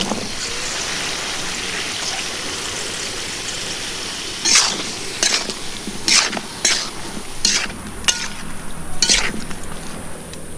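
Potatoes and bottle gourd sautéing in a pan over a homemade stove, a steady frying hiss with several sharp bursts of stirring and sizzle in the second half, close and fairly loud.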